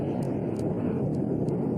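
A pressurized passenger airliner carrying 81 passengers and 6 crew climbs toward 23,000 feet, heard as a steady, broad, low roar of engine and airflow that holds level throughout.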